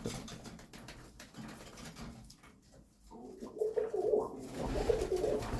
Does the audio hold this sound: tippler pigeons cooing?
yes